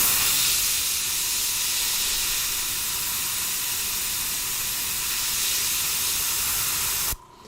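Fine mist of paint sprayed lightly for cloud shadowing, a steady close hiss lasting several seconds, then cutting off abruptly near the end.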